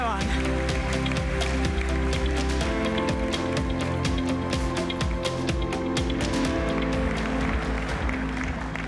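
A congress audience gives a warm welcome to Esteban González Pons in a large hall in Valencia. Dense, continuous applause fills the room at a steady level and mixes with crowd noise and a low hum from the venue.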